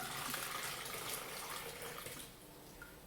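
Water pours steadily into a container nearby, a soft continuous splashing that tapers off toward the end, with no talking.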